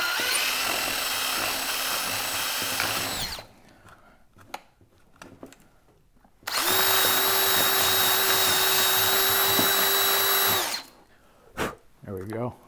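A power drill hogs out a Hobie 360 kayak drive part in two loud, steady high-pitched whining runs separated by a short pause full of clicks and handling noises, then a few brief knocks at the end.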